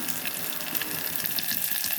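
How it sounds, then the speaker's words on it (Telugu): Cumin, garlic and curry leaves sizzle and crackle in hot oil for tempering, a close, continuous frying hiss with quick popping bursts. "తాలింపు పెడుతున్నాను. జీలకర్ర తాలింపులు వేసాను, వెల్లుల్లి వేస్తున్నాను"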